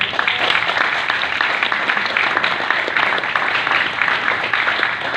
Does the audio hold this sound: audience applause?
yes